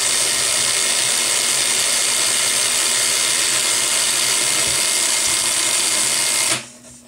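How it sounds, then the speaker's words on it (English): Power drill boring a hole for wiring, a steady high whirring drone that runs continuously before cutting off abruptly near the end, with no speech. "So eventually you're going to have your hole drilled for your wires to go through."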